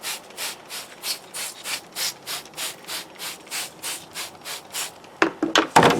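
A paper towel rubs back and forth over the guard of a Hoover Breathe Easy upright vacuum, about a dozen even rhythmic swipes up close, ending in a few sharper scraping scuffs, with no voices.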